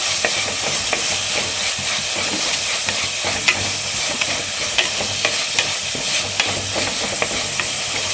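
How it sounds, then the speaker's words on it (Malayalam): Garlic, ginger, onion, curry leaves and tomato fry in a pan while being stirred, a loud continuous close sizzle with frequent small scraping ticks from the spoon. "കൂടെ തക്കാളി നമ്മൾ ഇട്ട് കൊടുക്കുന്നുണ്ട്. നന്നായിട്ട് മിക്സ് ചെയ്ത് കൊടുക്കാം."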